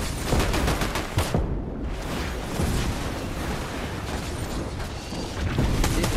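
Gunfire in the video game Fortnite rattles in dense, rapid bursts with booming impacts, loud and continuous throughout amid chaotic game noise.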